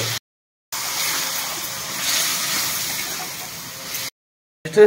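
Water pours into a cooking pan with a continuous sloshing, gurgling rush, cut by two short silent gaps.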